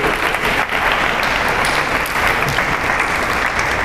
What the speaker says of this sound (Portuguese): Obrigado, vamos aplaudir.